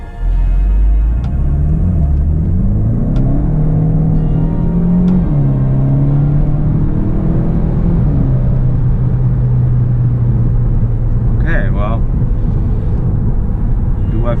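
A Volkswagen Golf GTE with Stage 2 tuning accelerates in third gear, heard from inside the cabin as a loud, continuous engine drone that rises in pitch and then holds steady.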